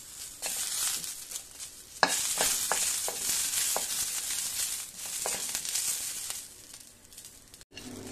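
Green chillies roasting in a hot pan give an ongoing sizzle with scattered stirring scrapes and taps, moderately loud and close, with no voices.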